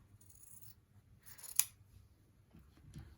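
Scissors trim sewn fabric a quarter inch from the seam line, giving one quiet, crisp snip in an otherwise hushed room.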